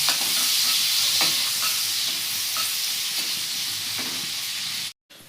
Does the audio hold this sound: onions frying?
yes